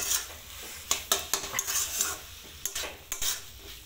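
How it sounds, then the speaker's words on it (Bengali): Ground black pepper stirred into food in a pan, with a utensil scraping and clinking against the metal in irregular bursts over a soft sizzle. "গোলমরিচ গুঁড়োটা দিয়ে একটু নাড়াচাড়া করে নিলাম"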